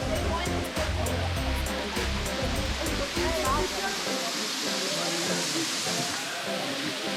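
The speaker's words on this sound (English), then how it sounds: "It's definitely a pretty cool waterfall" A waterfall in Martinique pours as a steady, broad rushing hiss, moderately loud, with people talking nearby over the water.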